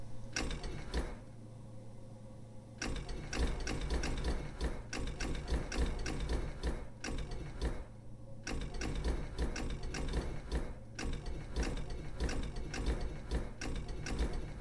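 Machine gears in the video game Blue Prince turn and ratchet with a steady, dense mechanical clatter that runs continuously at moderate loudness, with no speech over it.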